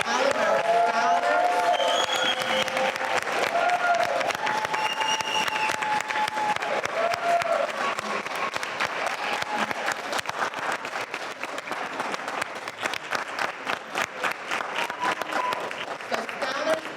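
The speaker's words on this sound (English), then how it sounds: "So let's give a warm round of applause to all of our contestants, all of our scholars." Audience applauding competition contestants and scholars at an annual youth competition, steady dense clapping with some cheering that carries on throughout, loud and close, while a melodic tone plays underneath.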